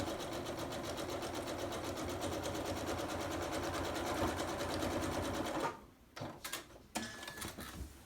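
A sewing machine runs steadily, stitching straight down through fabric for several seconds at close range, then stops, followed by a few handling clunks.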